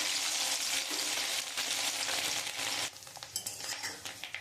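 Small fish roe fritters with onion and green chili fry in hot oil in a wok, producing a loud, continuous, close bubbling sizzle that drops to a quieter crackle with scattered pops partway through, no speech.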